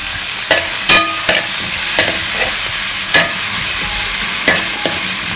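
Tomatoes sautéing in a hot pan for egg kulambu, a constant sizzle broken by sharp clacks of a spoon stirring against the pan every second or so.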